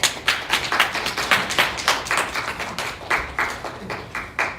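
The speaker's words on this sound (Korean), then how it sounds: "서로 한번 박수로 인사하겠습니다." A church congregation at a Sunday worship service claps in greeting, producing loud, distinct, rhythmic claps in a fairly regular beat that carry on steadily from start to finish.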